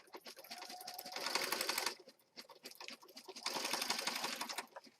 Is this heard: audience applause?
no